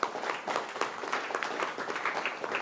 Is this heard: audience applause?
yes